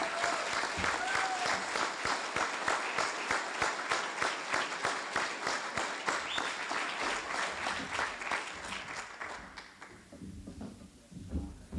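A large audience at a fire department awards ceremony claps steadily for an Engineer of the Year, dense sustained applause that thins and fades toward the end.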